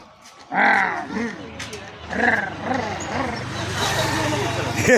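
A voice imitates a vehicle engine with rising and falling vocal revving in short bursts, then a longer sustained run, close to the listener, mixed with excited talk during a playful pretend ride.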